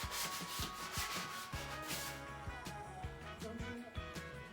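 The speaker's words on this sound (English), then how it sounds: "is going to sand down all the caulking" A sanding block rubbed over dried caulking, giving a quiet, rhythmic scratchy back-and-forth rasp with regular strokes and no talk over it.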